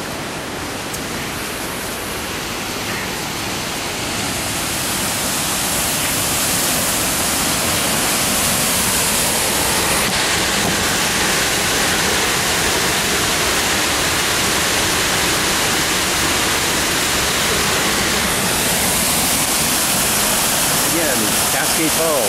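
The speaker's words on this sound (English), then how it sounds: "Again, Cascade Falls." Cascade Falls, a waterfall by a suspension bridge, gives a continuous broad rushing roar that swells slightly louder and stays steady throughout.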